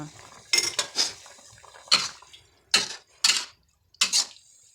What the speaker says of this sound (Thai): ก็คนนิดนึงค่ะ คนให้เข้ากันนะคะ